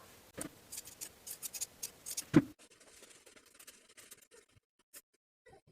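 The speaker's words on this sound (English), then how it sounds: "Trim the seams, clip the top corners, and turn the piece right side out." Scissors snip through dress fabric, trimming seams and clipping corners, in a quick run of crisp close cuts for a couple of seconds before fading to soft, quiet handling.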